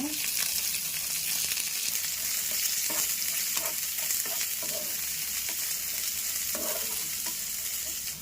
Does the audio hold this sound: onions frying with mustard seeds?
yes